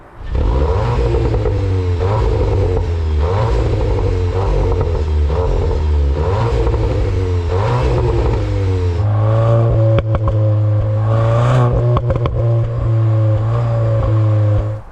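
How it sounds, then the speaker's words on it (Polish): A 2022 Cupra Leon ST 310 hp 4Drive estate's exhaust, fitted with a petrol particulate filter, burbles at idle, then revs up loudly several times, the engine note rising and falling with crackles between blips. "To jest prawdziwy wydech i ten wydech, mimo GPF-a, bardzo ładnie brzmi."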